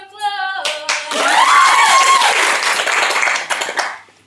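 Audience clapping at a New Zealand youth musical, a loud crowd of hands swelling and holding steady before easing off, with musical tones ringing at the start.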